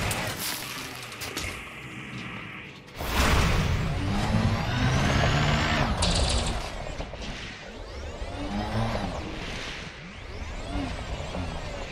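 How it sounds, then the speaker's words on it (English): A cargo scoop deploying on a spaceship in Elite Dangerous: a loud mechanical whoosh and servo-like hiss rises abruptly and sustains for several seconds under steady engine rumble. "Cargo scoop deployed."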